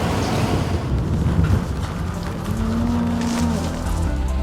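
Cattle destined for ploughing work moo in long, low calls at close range, one sustained call standing out over wind buffeting the microphone and a steady outdoor rumble.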